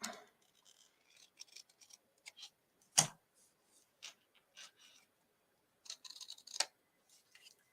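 Scissors trim craft material in quiet, scattered snips. One sharp cut stands out, and brief clusters of small cuts and rustles come close by, with no talking.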